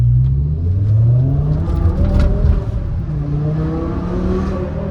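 A BMW E60 M5 launches hard inside a tunnel, its engine revving loudly with rising pitch through continuous acceleration, echoing close and dominant for the whole stretch with no talking.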